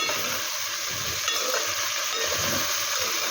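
Okra and tomato curry fries on a high flame while being stirred, a steady loud sizzle running throughout with faint scraping of the spoon in the pan.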